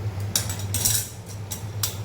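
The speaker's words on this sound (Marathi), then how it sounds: "गॅसवर आपण कढई ठेवली" A few light metallic clinks and taps as a wok is set down on a gas stove grate, over a low steady hum.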